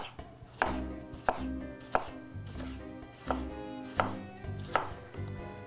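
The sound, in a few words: knife slicing tomato into small pieces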